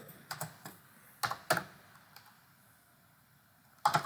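Keys tapped on a computer keyboard as a sudo command is entered, a few sparse clicks in small clusters with pauses between, close but quiet, no speech.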